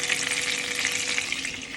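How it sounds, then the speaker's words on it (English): Onion cooking in liquid in a cast iron pan, with steady close sizzling and bubbling as the liquid boils and reduces, loud and unbroken, with no voices. "See the liquid at the bottom? Boiling."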